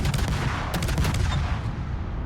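Naval ship guns firing at a destroyer in a warship game, a rapid run of loud booming shots that blur together over a dense rumbling backdrop.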